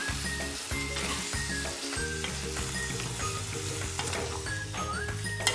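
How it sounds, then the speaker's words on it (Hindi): Chopped tomatoes and capsicum sizzle steadily in a frying pan for pav bhaji while a spoon stirs them, giving rhythmic scraping strokes over a constant close frying hiss. "टमाटो और कैप्सिकम को अच्छे से मिक्स करें"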